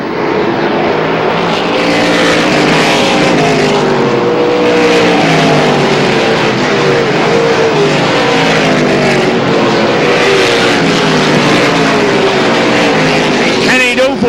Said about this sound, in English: Kenny Newport comes back out in car number 60. He's several laps down.